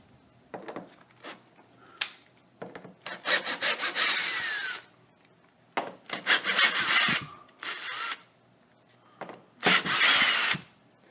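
Larger stainless steel screws being driven into a pine door to replace small original ones: repeated loud bursts of grinding, rasping noise separated by short pauses, close by, with no talking.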